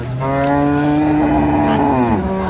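A dairy cow at the Raniganj cattle market in Dinajpur gives one long, loud, close moo that falls in pitch at the end.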